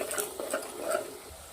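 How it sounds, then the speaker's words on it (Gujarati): A spoon stirs Kashmiri chili powder, plain chili powder and salt into roasted semolina in a pan for vegetable buttermilk upma, making a few soft, dry scraping strokes close by. "સરસ મસાલાને મિક્સ કરી દઈશું"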